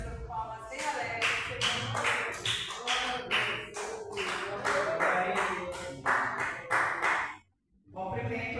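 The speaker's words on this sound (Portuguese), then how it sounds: "Você vai ter as suas palmas bem alegres." Church congregation clapping together during a service, a run of quick, crisp, regular handclaps at moderate level that stops abruptly near the end, followed by a short silence before the clapping resumes.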